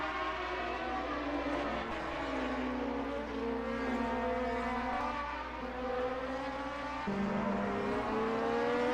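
A steady engine drone with rising and falling harmonic whine as race cars circle an airfield circuit at a distance during a 1978 German racing championship round, with no talking.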